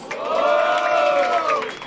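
A crowd at a Brazilian freestyle rap battle roars and cheers loudly for contestant Klaus, a dense wall of shouting voices with whoops that swells and holds for about two seconds, close and alone.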